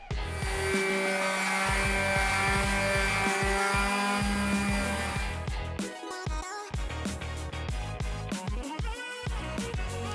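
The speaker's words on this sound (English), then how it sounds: "it's time to get sanding. I'm using 150 grit sandpaper on this to start" A power sander with 150 grit sandpaper works on a mid-century Danish rosewood desk, whirring loudly and close with a steady tone, then shifting into a rougher, pulsing grind as it works across the surface.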